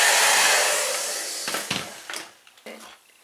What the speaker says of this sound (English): I'm gonna go ahead and start by using my blow dryer to dry it completely.